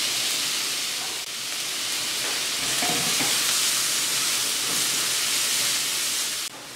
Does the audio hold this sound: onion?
yes